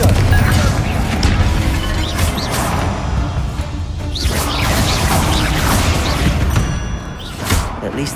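Confringo fire spells in Hogwarts Legacy go off in a rapid volley of loud booms, crashes and whooshes, a dense barrage of impacts lasting several seconds amid chaotic game combat.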